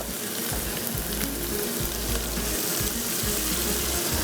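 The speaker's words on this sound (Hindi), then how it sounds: "अब इसके अंदर पानी इतना डालना है कि चिकन हमारी अच्छे से गल जाए" Chicken sizzles in a pan as water is poured in, a constant loud hiss and bubbling frying noise close up with no voices.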